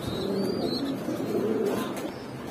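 Imported Andalusian racer pigeons coo softly in low, rolling phrases, with a few faint higher chirps over a steady background hum; no voices.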